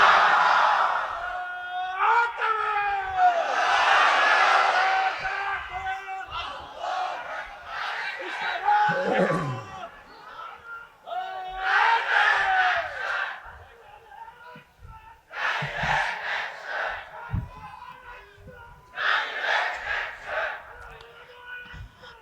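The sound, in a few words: crowd shouting Allahu Akbar in response to takbir call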